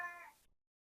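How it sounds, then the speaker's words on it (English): A house cat gives a single short, faint meow at close range, which quickly fades into silence. "Introducing our cat Mocha."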